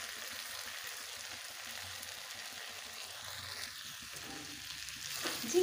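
Ridge gourd and potato fry in a pan at home, giving a soft, steady sizzle that holds throughout, with faint stirring noises and a slight rise near the end.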